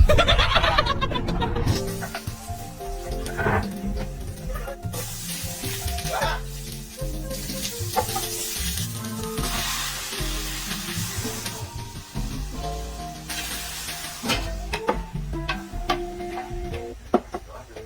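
Tomato spaghetti sauce sizzling in a pan while it is stirred, with a steady frying hiss, scraping and clinking from the utensil, and bits of voices and laughter underneath.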